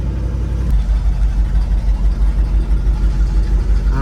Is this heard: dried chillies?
no